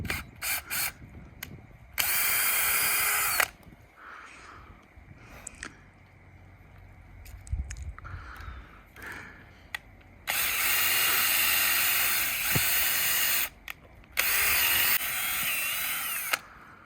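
Cordless drill boring tap holes into maple trees outdoors, with several loud whirring bursts of a few seconds each, separated by quieter pauses with small knocks and handling sounds.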